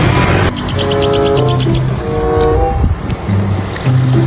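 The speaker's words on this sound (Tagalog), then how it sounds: "Ay, dami namang dumaan. May motor pa. Ang dami." Motorcycles and other vehicles pass by outdoors near a roadside eating spot, giving loud engine drones and humming tones that rise and fade as several go by close.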